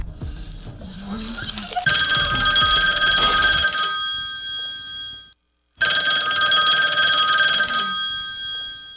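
A landline telephone bell rings loudly and close in two long trilling bursts separated by a brief silence, preceded by a short stretch of low rumbling background noise.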